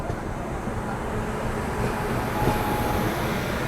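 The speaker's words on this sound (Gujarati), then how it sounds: "Jamnagar intercity express." Jamnagar Intercity Express (22959) passing on a double line at Hapa railway station, heard from a moving train: a steady, loud broadband rumble of wheels and carriages, continuous throughout with no talk.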